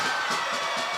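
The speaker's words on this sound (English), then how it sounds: "You can hear the crowd erupt here" Crowd roaring at a high school boys playoff hockey game in Wisconsin just after a late power-play goal, a dense, steady wash of cheering and shouting that holds loud for the whole second.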